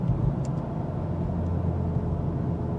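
A car downshifts and accelerates on an open road, with a steady low engine rumble and road noise heard from inside the car, with no talk.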